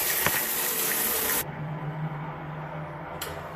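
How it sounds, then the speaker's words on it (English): A Drain King drain cleaner expands inside a shower drain and blasts water through it with a loud rushing gush that drops to a lower, steadier churning flow. "the Drain King is expanded around the drain, and you can hear it blasting away."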